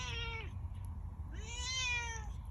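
A domestic cat meows twice near the microphone, two drawn-out calls separated by a short pause, over a steady low background hum in a home kitchen.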